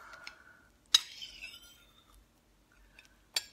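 Cutlery clinks against a plate while cutting into a soft French omelette, a few sharp metallic taps spaced apart in an otherwise quiet room.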